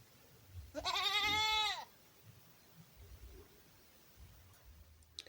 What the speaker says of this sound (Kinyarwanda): Ihene irahebeba.